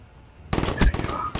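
Assault rifle gunfire in a first-person shooter video game, a sudden loud burst of rapid shots after a quiet start, with a sharp peak midway.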